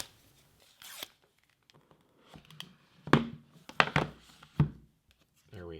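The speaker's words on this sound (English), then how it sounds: "So we'll just peel this away here." Protective plastic wrap is peeled off an iPhone 14 Pro box, giving a few short, crisp crinkling and tearing bursts close up, separated by quiet gaps.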